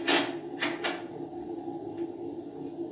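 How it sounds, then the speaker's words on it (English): Cabin door lock sound effect from a 1938 radio drama, a few quick wooden clacks and a rattle near the start over a steady background hum. "You may lock the door now."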